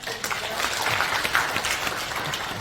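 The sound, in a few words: audience applause at prayer meeting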